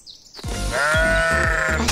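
A single sheep bleats loudly and close, a long wavering baa that holds for over a second after a brief quiet lead-in.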